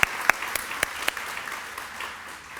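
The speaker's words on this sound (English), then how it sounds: "Round of applause for both of these worthwhile organizations serving the youth in our community." An audience at a community event applauds in a sustained patter of clapping, with several louder individual claps standing out early before it thins.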